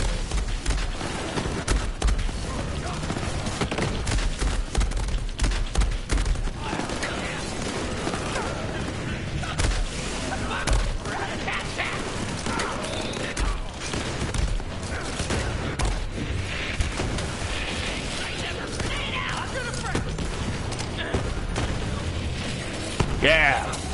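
Constant rapid assault-rifle fire and booming radiation explosions in the shooter game Borderlands 3, dense and loud throughout, with someone talking over the action.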